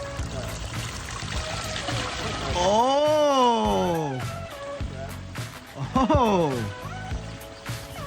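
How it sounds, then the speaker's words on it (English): A waterfall pours into a backyard pond with a steady, rushing splash throughout, while people cry out loudly in excitement over it. "waterfall time"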